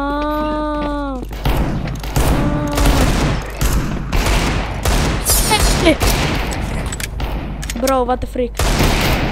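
Counter-Strike video game gunfire: several sharp pistol and rifle shots scattered across the clip, mixed with game effects, as players talk and exclaim loudly over them.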